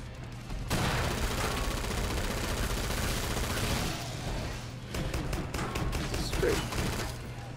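Dense, continuous gunfire and booming blasts from a shooter game fill the space, including shotgun fire against a Scrake enemy while playing a survivalist, with a steady low hum beneath and a few sharper bursts near the end.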